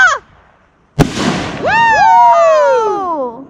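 Fireworks at night: a sharp launch thump, then a loud crackling burst, followed by whistling, descending shrieks from the rising and falling shells. A brief voice comes at the very start.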